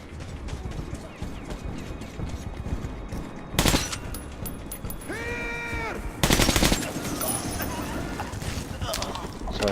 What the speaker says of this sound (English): I guess I'll use my rifle a bit.